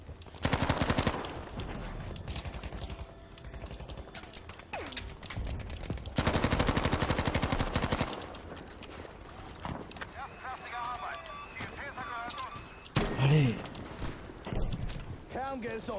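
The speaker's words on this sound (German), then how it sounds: "Schüsse und das lobe ich mir." Gunfire in Battlefield 5 multiplayer Conquest on PS5, loud bursts of rapid automatic fire in separate volleys with quieter stretches between, plus scattered single shots and game effects underneath.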